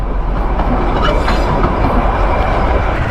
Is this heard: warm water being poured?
no